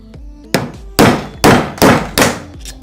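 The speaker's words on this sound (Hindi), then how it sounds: "यहाँ से इसी छेद में हमें एक पंच करना है। देखिए कुछ इस तरह से सुई टाइप में कुछ चीज़ लीजिए और इसमें पंच आपको करना है।" A needle-like punch is hammered to knock the rivets out of a washing machine spin motor, making five loud, sharp metallic strikes at a steady pace after a faint tap.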